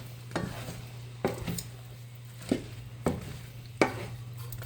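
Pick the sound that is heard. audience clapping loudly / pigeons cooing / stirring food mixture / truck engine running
stirring food mixture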